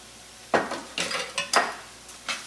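Chopped garlic stirred in a pan for red pepper soup, giving several loud scraping clanks of the utensil against the pan at irregular intervals over a soft sizzle.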